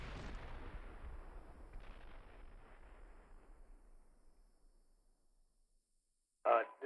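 Heavy artillery and gunfire in the Steel Beasts Pro PE tank simulator, a loud booming blast rolling off into a long fading rumble, followed by silence and then a sharp burst near the end.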